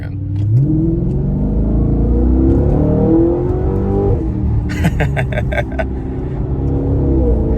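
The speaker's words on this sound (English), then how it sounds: "this exhaust on the car is easily my favorite thing about it. It sounds so good." Audi RS5 exhaust revs loudly and close by, the engine climbing and falling through several throttle blips with a sharp crackle partway through, alone without talk.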